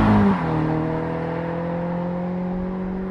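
A Toyota GR86 10th Anniversary Edition sports car on a drive, its engine heard from inside as a steady droning hum that eases down after a brief louder start, with no talking.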